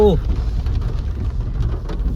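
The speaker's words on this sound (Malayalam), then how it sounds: "ഗംഭീര മഴ" Dense, steady rain hissing across the whole clip, loud and close, with a brief tonal sound at the very start.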